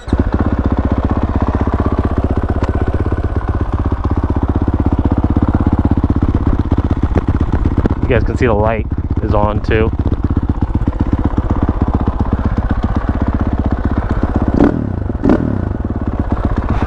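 A 2022 KTM 450 SMR supermoto idles loudly and steadily nearby, with a rapid single-cylinder thump throughout and a few brief revs, while someone speaks briefly over it.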